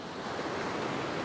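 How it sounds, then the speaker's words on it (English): Ocean waves washing onto a beach during shore fishing on calm, flat seas, a steady broad rushing wash heard close and alone. "wait for a little break in the waves, even though the seas are pretty flat"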